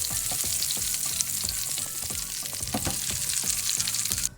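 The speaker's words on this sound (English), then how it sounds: "Get the potatoes into the oil" Potatoes hit hot vegetable oil in a roasting tray, giving a loud, dense, steady sizzle with crackling bursts and a few metallic knocks that continue for about four seconds, then cut off abruptly.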